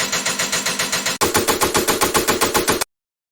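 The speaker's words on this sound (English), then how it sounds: "how to make a DEATHSTEP bass shot" A deathstep bass shot built by layering sounds hammers out as a rapid, machine-gun-like stream of gritty, distorted bass pulses, loud and dense, with a brief break midway before it resumes and cuts off abruptly.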